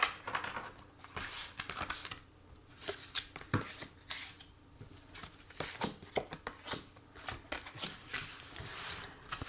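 Tarot cards are shuffled and drawn by hand, making soft papery slides, flicks and crinkles in quick irregular bursts. The sounds are close but faint, with a low steady room hum underneath.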